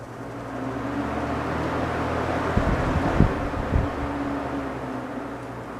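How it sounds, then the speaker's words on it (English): A 1994 Holmes 20-inch box fan running, a steady near broadband whoosh of moving air with a low motor hum and a few brief thumps partway through. "my 1994 20-inch Holmes box fan"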